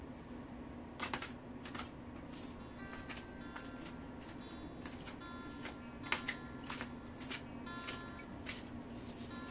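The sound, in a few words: shuffling a tarot card deck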